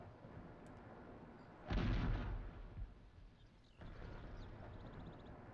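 In a pirate-ship game, a single cannon fires at a wall, giving one deep boom that rolls on for about a second over a steady ambient hiss. A quieter rumble follows and no one speaks.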